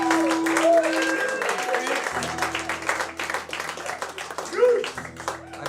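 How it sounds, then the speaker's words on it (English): Audience clapping for a band member who sits in nightly with the performer, sustained applause mixed with crowd noise at moderate level. "Please give Chris a big round of applause."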